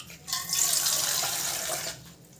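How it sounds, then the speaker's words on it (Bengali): Water pours steadily into a pot of peas being readied for boiling, a close, continuous splashing stream lasting about two seconds before it stops. "দিয়ে আমি পরিমাণ মতো জল দিলাম, এটা সিটি সেদ্ধ করব বলে।"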